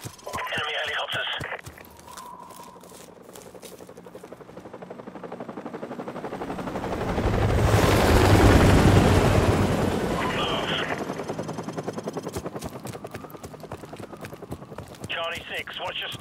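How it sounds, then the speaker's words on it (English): Enemy helicopters in the Call of Duty Modern Warfare Remastered video game, a rotor roar that swells to a loud peak midway then fades, with gunfire bursts near the start and end. "Enemy helicopters."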